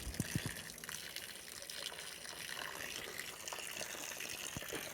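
Water gushing and trickling out of the vent valve on a fertigation system with a Dosatron unit, a steady liquid rush that runs throughout, with a few low knocks near the start.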